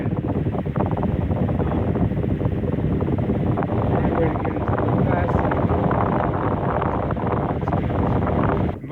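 Antique Emerson 21666 electric fan, its speed coil shorted, running on high: a steady, loud broadband whoosh of moving air and motor hum that holds evenly throughout with no talk over it.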